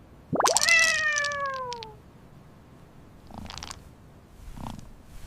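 A grumpy cat lets out one loud, drawn-out meow close by, then gives two fainter, shorter sounds, with no talk.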